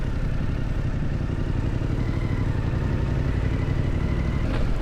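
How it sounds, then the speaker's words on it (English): A Fantic Caballero 700 scrambler engine crawls slowly in gear at low speed, giving a steady, loud, close low-pitched throb with a faint mechanical clatter and no talk. "I managed to crawl around at about 16 km/h before the engine started to struggle"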